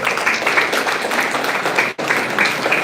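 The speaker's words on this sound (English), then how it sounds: "A big round of applause for all of you as well." Audience at a skill development centre inauguration applauding students, brisk dense clapping from many hands that dips briefly near the end, then resumes.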